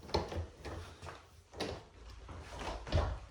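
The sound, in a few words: house door being unlocked and opened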